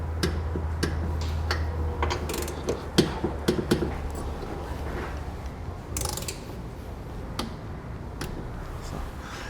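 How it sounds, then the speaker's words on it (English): Ratcheting torque wrench clicks while bolts are tightened on Westin E-Series round nerf bars for a 2016 Ford F-150, a series of sharp close ticks and short bursts over a low steady hum. "Then we'll use the torque wrench and torque them down to the specification"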